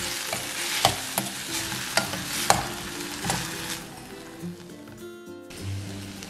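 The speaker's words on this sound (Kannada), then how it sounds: "ಒಂದು ಆಲೂಗಡ್ಡೆನ ಬೇಯಿಸಿಬಿಟ್ಟು ತುರಿದಿಟ್ಕೊಂಡಿದ್ದೀವಿ ಅದನ್ನ ಹಾಕೋಣ ಕೊತ್ತಂಬರಿ ಹಾಕೋಣ ಎಲ್ಲಾನು ಚೆನ್ನಾಗಿ ಮಿಕ್ಸ್ ಮಾಡ್ಕೋಬೇಕು" Grated boiled potato and chopped coriander being stirred in a hot pan, with a steady soft sizzle and a few sharp scraping knocks of the spoon against the pan, then quieter frying.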